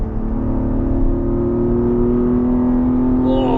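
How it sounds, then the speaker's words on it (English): A Toyota Supra MK4 fitted with individual throttle bodies holds a high, steady engine note at sustained revs on the Oulton Park circuit, loud and smooth with a strong harmonic whine and no talk. "It loves the revs, doesn't it?"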